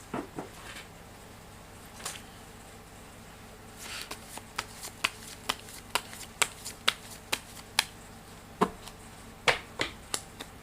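Gypsy tarot cards shuffled and riffled by hand, a series of sharp, crisp snaps and flicks close up, sparse at first then coming in quick succession, with no talking.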